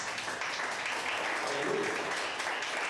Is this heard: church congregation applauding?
yes